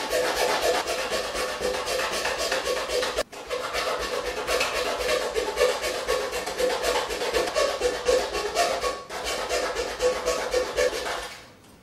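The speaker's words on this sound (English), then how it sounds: "Rather than moving the fret saw forward, move the work into the saw blade." A hand fret saw cutting through wood veneer for marquetry, with steady rapid rasping strokes that continue almost without pause, close and fairly loud, briefly stopping twice.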